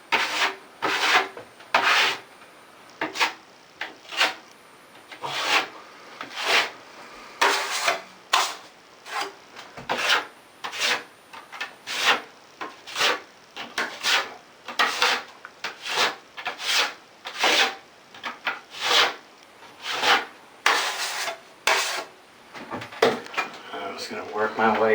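A drywall knife drags joint compound across a wall being repaired after wallpaper removal, making steady repeated scraping strokes at a rhythmic pace. The strokes are close and fairly loud, and someone talks between them.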